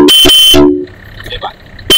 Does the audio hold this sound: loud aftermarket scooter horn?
yes